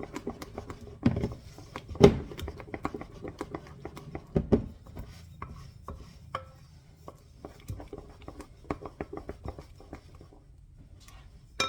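Bread dough for French bread, three cups white flour and half a cup whole wheat, beaten by hand in a kitchen: irregular soft thuds and slaps, a few louder hits early, then lighter scattered knocks.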